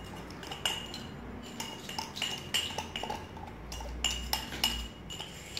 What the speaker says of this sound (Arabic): خلطوهم مزيان بجوج